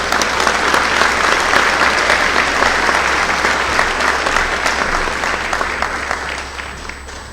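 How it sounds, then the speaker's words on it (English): Applause at a 2017 Southeast Georgia high school sports awards ceremony, a large crowd clapping loudly and continuously, then slowly thinning and fading toward the end. "a big round of applause for all of these young men"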